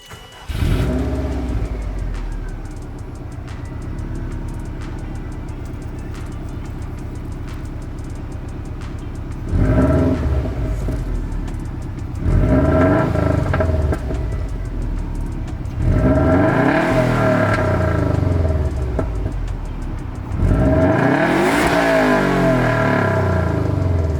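A Subaru WRX fitted with an SDI exhaust and an up pipe idles with a low burble, then revs in four loud, close bursts, each rising and falling back toward idle.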